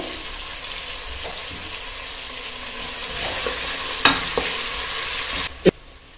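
Onions frying with a pinch of salt in a pan for chicken biryani, a continuous sizzle with occasional spoon clinks and scrapes, a sharper knock near the end.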